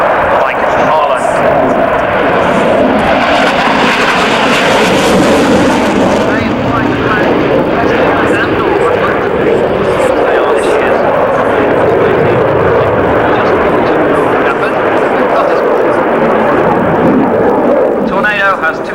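Panavia Tornado jet of the Royal Air Force climbing away at the 1995 Leicester Airshow, a loud sustained engine roar that swells and slowly shifts as it departs, with a commentator speaking over it throughout.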